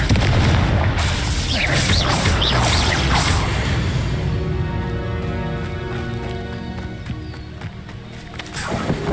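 A loud Confringo explosive spell blast in Hogwarts Legacy, a heavy booming impact up front that decays into a lingering rumble and tonal game ambience, with another hit near the end.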